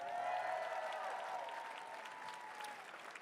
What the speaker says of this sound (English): Let's give a huge round of applause for our elite female field.